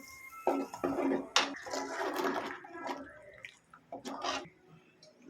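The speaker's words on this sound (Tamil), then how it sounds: "இதில் வந்து கொஞ்சமாக தண்ணி சேர்த்துக்கலாம்" Water splashes and trickles into a cooking pot in short uneven pours while making okra buttermilk curry, with light metallic clinks of cookware nearby.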